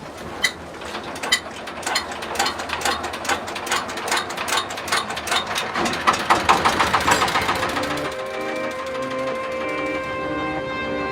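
A boat engine runs steadily on a river in Bangladesh, a continuous mechanical drone with rattling, clicking knocks throughout, close and fairly loud, with no talking.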